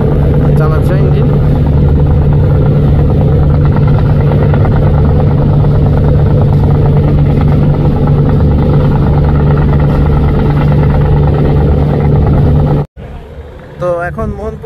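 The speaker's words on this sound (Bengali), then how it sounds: "শুনতে পাইতেছি টার্বোর আওয়াজ, সাইলেন্সার থেকে টার্বোর আওয়াজ বেরোচ্ছে।" A passenger launch's engine roars hard under pressure, its turbo noise pushing out through the silencer as a loud, steady, close drone with a low hum that cuts off abruptly near the end.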